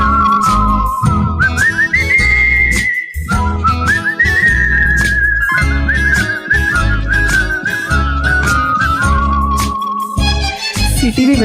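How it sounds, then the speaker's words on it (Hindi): Loud, melodic whistling during a live stage performance of a classic Hindi film song, clear sustained whistled notes sliding between pitches over steady rhythmic musical accompaniment. "सीटी भी बजा जाती है।"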